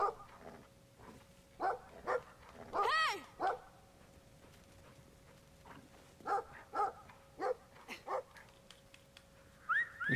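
Repeated dog barking from a canine in the video game Brothers: A Tale of Two Sons, sharp barks and yips in irregular bursts over a faint steady background tone, with one louder, longer flurry midway.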